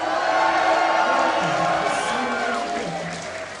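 An esports arena crowd at a PAX NA Regionals match cheers, whoops and claps for TSM, a loud, dense roar with shouted voices rising early and slowly easing off.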